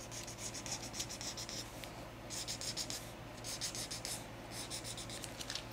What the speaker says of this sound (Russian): Теперь я дальше рисую линию рельефа.